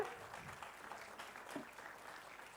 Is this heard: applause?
yes